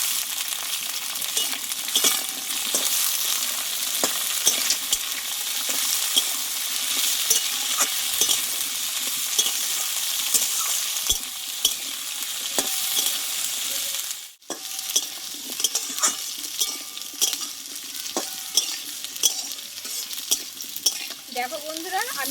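Pumpkin stalks stir-fry with potatoes in a pan, a constant bright sizzle with frequent small scrapes and clicks of stirring and a brief dip partway through.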